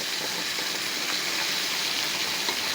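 Tilapia fish frying in hot oil, a steady loud sizzle and crackle that continues without pause, close up and with no talking.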